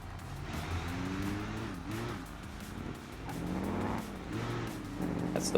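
Car in the BeamNG driving game pulling away, its engine note rising and shifting as it drives off, with steady motor drone throughout and a brief tyre or impact noise near the end.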